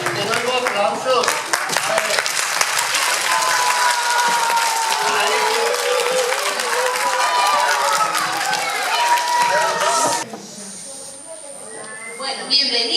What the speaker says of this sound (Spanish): Ay, eso sí, te doy aplausos.